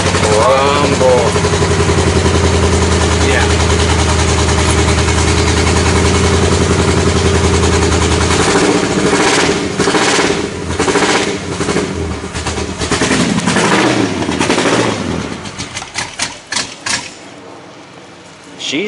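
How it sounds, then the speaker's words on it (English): A 1979 Ford F150 with cherry bomb mufflers rumbles loudly at close range, a deep, uneven chugging idle that stays steady and then turns choppier, with people talking over it. "Boy, she got a rumble to her."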